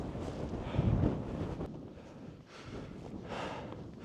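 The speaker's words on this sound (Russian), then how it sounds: "Сильный ветер, если говоришь в сторону ветра, то не можешь дышать" Strong wind rumbles and buffets against the microphone in uneven gusts on Mount Khustup, Armenia, a continuous low roar swelling and easing with no voices.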